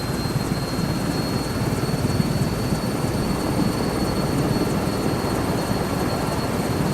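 Helicopter engine powering up in Microsoft Flight Simulator 2024, a loud steady turbine roar with a faint high whine and rhythmic rotor pulsing throughout, with no talk.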